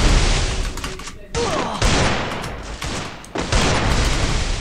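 Desert Eagle pistol fire in the mobile battle royale game Free Fire MAX, dense loud bursts of gunshots in rapid succession with brief gaps, mixed with game effects and a player talking.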